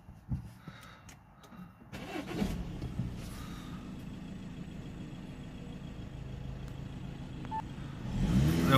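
A 2.0 TDI diesel Audi A6 has its ignition cycled, then the engine cranks and starts after about two seconds, settling into a steady, fairly loud running rumble recorded close by with no talking.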